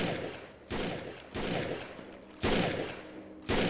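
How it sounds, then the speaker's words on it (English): Gunfire in the sci-fi shooter video game Defiance: a series of heavy, booming weapon blasts about every second, each with a long rumbling tail, loud and close with no talking. "Why is he shooting? What's he shooting at?"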